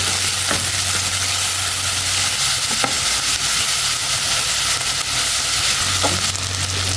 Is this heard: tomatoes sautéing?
yes